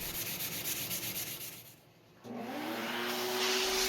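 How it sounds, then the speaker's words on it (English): Steady back-and-forth rubbing of steel wool over wood, a rhythmic abrasive scrub close by, pausing briefly before a continuous rough whir resumes. "you can go over it with some steel wool"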